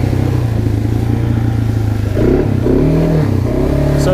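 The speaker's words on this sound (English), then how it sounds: "So that engine's really kind of working hard." A Kawasaki Brute Force 300 ATV engine roars continuously on a trail, straining and clattering with slight shifts in pitch as it labors, close to the microphone.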